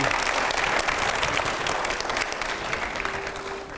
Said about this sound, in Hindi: इस राउंड की तरफ बढ़े, थोड़ी जोरदार तालियों के साथ में आप लोग